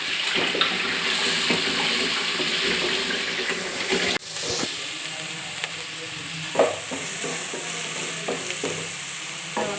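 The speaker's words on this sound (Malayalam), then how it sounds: "ഇതാണ് തക്കാളി നമുക്ക് നല്ല കണക്കിനൊന്ന് വഴറ്റി കൊടുക്കാം" Tomatoes for chicken biryani sauté in a pan with a steady close sizzle, broken by occasional stirring scrapes and knocks, and no talking.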